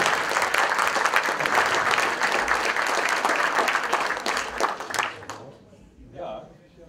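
A hall audience applauds a young volunteer award winner, brisk dense clapping for about five seconds that then stops abruptly, followed by quiet talk.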